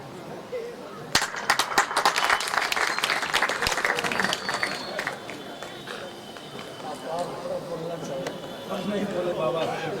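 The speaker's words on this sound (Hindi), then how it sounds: "एक बार जोरदार तालियों का इनका स्वागत" An audience at a Shri Ram Katha religious gathering in Saharsa claps loudly to welcome a guest: dense, sustained applause that starts sharply and gradually thins, mixed with voices in the crowd.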